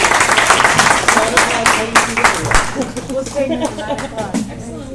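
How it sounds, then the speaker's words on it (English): Applause from a small audience honoring a colleague, a burst of dense clapping that thins out as voices begin talking over it. "Mary Amos deserves a big round of applause."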